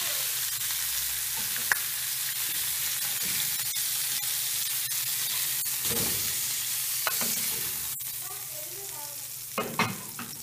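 Chicken pieces with the skin removed sear in a little oil, giving a steady broadband sizzle throughout with occasional scraping stirs and clinks, no talk.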